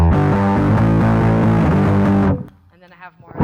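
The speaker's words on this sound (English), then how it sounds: "I have two different kinds of distortion on one pedal. One's more fuzzy" An electric guitar played through a fuzzy distortion pedal rings out in loud, thick, sustained chords that cut off abruptly, leaving brief quieter noodling after.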